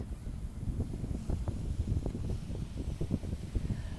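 Low, blustery wind rumbles and gusts continuously as a sound effect under a children's story narration, with dense rushing noise and no voice heard.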